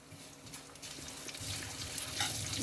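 Sesame seeds frying in hot oil with potatoes, giving a soft, continuous crackling sizzle that grows slightly louder over a few seconds, close and alone without talk.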